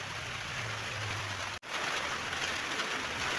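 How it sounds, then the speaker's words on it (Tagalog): Steady rain pouring down in an outdoor setting, a dense, even hiss of falling water with a brief dropout midway, no talking. "Yan, umuulan na po."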